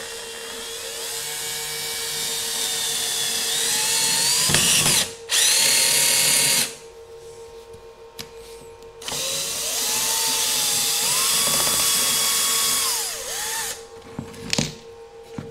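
A power drill drives screws through plaster into block to fix a baseboard in several loud, close whirring runs that rise and fall in pitch, separated by short pauses; no one speaks.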